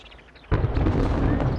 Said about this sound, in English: Oh, that thunder.